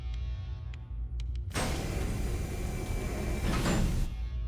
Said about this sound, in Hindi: बाहरी दरवाजा सुरक्षित है,